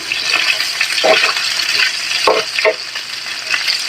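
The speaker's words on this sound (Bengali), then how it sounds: "তেলের ভিতরে ভালো করে বাগিয়ে নিতেছি" Taki fish sizzles in hot oil with spices while being stirred, with a continuous close frying hiss broken by a few scraping stirs in the pan.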